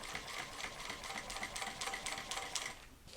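A sewing machine basting across backpack strap webbing, running in quick uneven bursts of rapid stitching, close and fairly quiet, with no voices.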